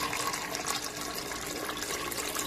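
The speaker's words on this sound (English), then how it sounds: "Then pour in water, just enough to cover the meat." Water pours steadily into a cooking pot of baby back ribs with crushed black pepper, bay leaves and salt, a continuous close splashing stream running the whole time with no talking.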